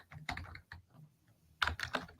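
Clicky bursts of typing on a computer keyboard, two quick clusters of keystrokes separated by a short quiet gap, close and fairly soft with no voices.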